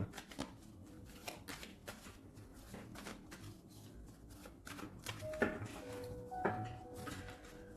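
Tarot cards are cut and shuffled close by in quick, crisp riffling bursts, with repeated papery flutters and taps and a few brief tonal sounds in the second half.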